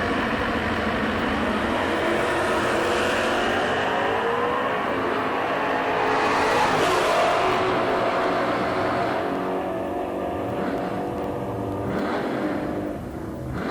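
A 2007 Mustang and a 1990 Mustang launch side by side at a drag strip, their engines roaring loudly and continuously at high revs, then fading slightly toward the end as the cars pull away.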